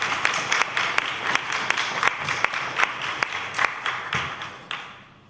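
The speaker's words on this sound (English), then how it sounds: "I would ask the members and everyone to applaud him for his service and his contribution." A small group claps at a parliamentary committee meeting, scattered hand claps with a few sharp slaps standing out, fading away toward the end.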